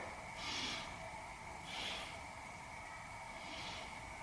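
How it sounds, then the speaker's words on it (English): Three slow, deep breaths during a core-strengthening yoga pose, each a soft airy hiss rising and fading about every one and a half seconds, faint and close over a steady background hum. "Let's take 3 breaths here."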